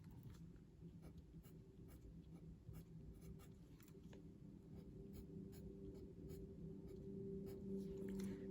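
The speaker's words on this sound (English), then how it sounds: "So I'll first redraw the free body diagram." A pencil drawing a free body diagram on paper scratches quietly and close up, in short repeated strokes and taps with small pauses between them.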